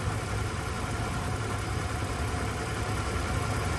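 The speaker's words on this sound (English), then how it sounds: "Listen to this engine, guys, or try to." The 5.0 V8 of a Ford F-150 pickup idles steadily and smoothly, a constant low rumble with a broad hiss on top, no voices.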